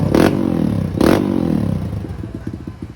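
Motorcycle fitted with an open muffler revs sharply twice, loud and close, then settles into a rapid, popping idle with crackling exhaust pulses.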